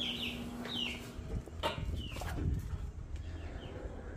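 Hens in a coop at a small Brazilian farm raising giant Índio Gigante and GSB Balão chickens cluck and chirp in scattered bursts, moderately close, over a low background rumble with no talk.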